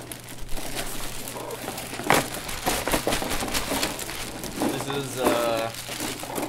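A taped-down plastic bag of board game pieces for Kingdom Death Monster is torn open and crinkled by hand, with bursts of crackling plastic and tape ripping close to the mic while someone talks over it.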